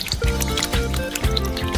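Tap water running into a sink full of peeled potatoes, a continuous splashing fill over a rhythmic background beat.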